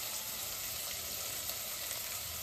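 Whole spices such as bay leaf sizzle with onion in hot oil, a dense, even, close-up crackle that holds steady throughout with no talking.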